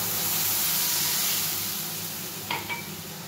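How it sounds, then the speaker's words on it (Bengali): Steady loud sizzling and hissing from a hot pan after water is poured over Maggi noodle masala and vegetables, with a faint clink near the end. "নিয়ে এইবার আমি জল দিয়ে দিচ্ছি।"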